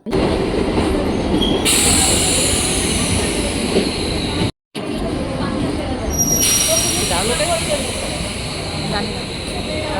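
A train arriving at a station rumbles loudly and steadily nearby, metal wheels squealing high over the roar, with a brief dropout midway before the noise resumes.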